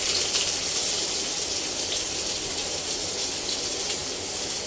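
Finely chopped medium onions hit hot oil where cumin seeds have turned red, giving a loud, steady, close sizzle that hisses continuously without a break and with no voices.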